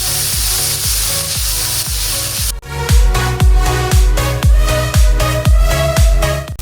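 A coconut mixture being dry-roasted and stirred in a pan for chicken chammanthi: a steady sizzling hiss, then a loud regular run of scraping strokes, roughly two per second, close up.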